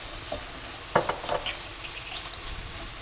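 A spoon stirring tomato paste into chicken mince in a frying pan, a low steady sizzle with a few soft scraping strokes in the middle, close and quiet.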